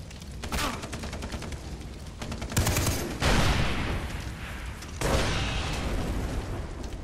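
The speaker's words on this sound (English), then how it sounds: "Oh, now you're firing in our direction?" Enemy gunfire in Far Cry 3, sustained automatic bursts rattling in dense rapid volleys, broken by heavier booming blasts around two and a half, three and five seconds, loud and close with no talking.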